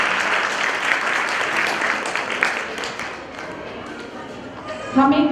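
An audience claps at a school annual function, dense applause that gradually thins and fades before a voice starts speaking over the hall in the final half-second.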